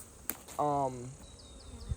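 A honey bee buzzes past at a beehive, one close, loud, droning note that swells briefly and fades, with faint higher buzzing from other bees in the background.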